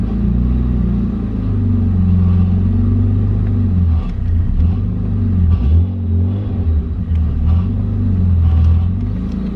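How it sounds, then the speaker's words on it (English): A BMW E36 engine rumbles and revs steadily up close, with uneven low surges and a faint metallic rattle like a loose heat shield beneath it. "It keeps going like vroom, vroom. It's like a heat shield rattling."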